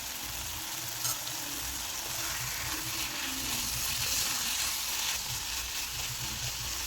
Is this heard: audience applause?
no